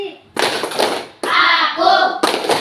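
A classroom of pupils claps together in a concentration clapping game, short bursts of sharp hand claps separated by brief pauses, with children's voices mixed in.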